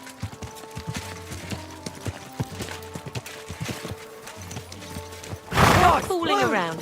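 Horse hooves clip-clop in a rhythmic, moderately loud pattern in the video game Kingdom Come Deliverance 2, with a louder vocal burst near the end.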